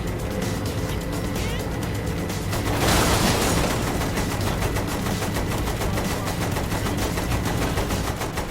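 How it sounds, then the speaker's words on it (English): Rapid machine gun fire in Saints Row 3 Remastered, a loud, continuous stream of dense shots with a heavier boom-like swell in the middle and vehicle noise underneath. "use the machine gun then,"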